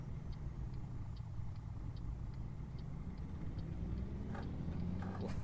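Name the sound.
truck engine accelerating in American Truck Simulator video game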